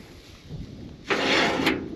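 A sudden metallic clunk and scraping release of an old truck's grain door after quiet, followed by a sustained rushing, rattling sound for about a second.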